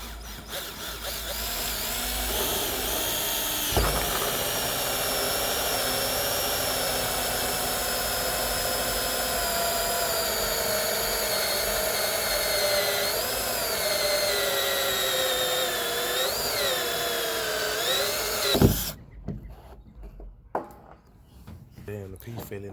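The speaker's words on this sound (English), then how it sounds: "1 1/4 drill bit." A power drill bores a hole with a 1 1/4 inch bit for a rain water catchment system, a loud continuous whining grind with shifting pitch that runs for about nineteen seconds, then stops into quieter clatter.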